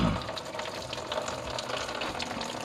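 Coolant drains from a truck with a suspected blown head gasket and splashes into a pan, giving a steady, close trickling splash over a faint mechanical hum.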